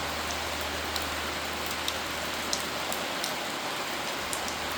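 Constant rainfall patters on a surface, a soft steady hiss with occasional sharper drips standing out.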